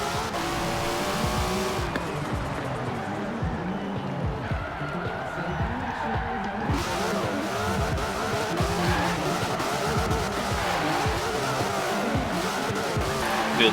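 A Toyota Celica with a rear-wheel-drive drag tune launches in Forza Horizon 4. The engine revs hard and steadily, tires squeal through the launch, and the car keeps pulling loudly and continuously. A voice talks faintly underneath.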